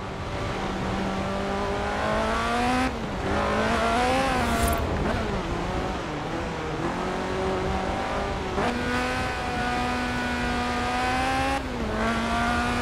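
A Lotus Sunbeam racing in Forza Horizon 4, its four-cylinder engine rising and falling through repeated gear changes, with one brief tire squeal. The engine is loud and sustained, and no one speaks.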